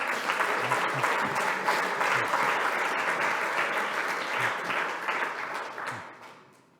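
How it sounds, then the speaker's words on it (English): An audience breaks into sustained applause, a thick wash of many hands clapping together that holds steady for several seconds before fading away at the end. "You can give them another applause."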